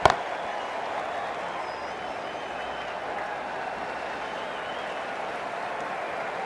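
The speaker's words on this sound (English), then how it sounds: "Please give him a round of applause." A cricket match crowd claps steadily, a dense, even wash of applause that stays at one level throughout.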